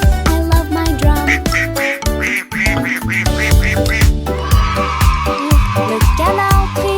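Duck quacks over bouncy children's song with drums and music, several cartoonish quacks in quick rhythm, loud and up front.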